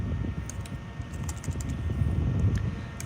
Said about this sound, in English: sorry, my typing skills aren't that great here